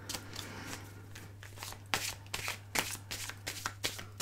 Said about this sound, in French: Ils sont mélangés mes cartes à l'endroit, à l'envers